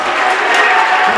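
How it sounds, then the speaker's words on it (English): Crowd noise fills a high school boys basketball gym, a steady, dense wash of many voices and cheering from both sides, loud and continuous without a break. "here's some crowd noise now for both sides"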